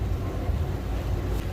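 Tiara 38 LS boat idling underway at about 3.5 mph, a steady low rumble of engine and water with some wind noise, continuous and fairly loud with no talking.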